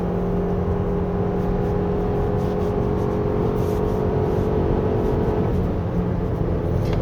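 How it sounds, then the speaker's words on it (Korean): A 2023 Toyota RAV4 Hybrid AWD in sport mode hums steadily from inside the cabin while driving on a winding road, a constant engine and road drone with no talking. "스포츠 모드에서는요, 엑셀 오프를 하더라도 엔진이 꺼져 있지 않고 아이들링 상태를 유지합니다"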